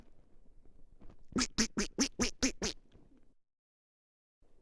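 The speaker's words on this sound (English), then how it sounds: "A duck." Duck quacks in a quick, evenly spaced run of seven loud, nasal calls lasting about a second and a half, followed by silence.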